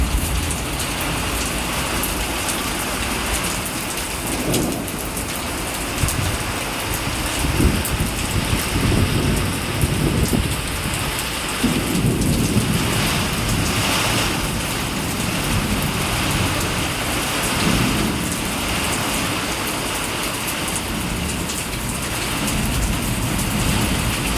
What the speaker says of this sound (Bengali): হঠাৎ করেই দেখুন কি জোর বৃষ্টি নামলো, আর ভীষণ মেঘ ডাকছে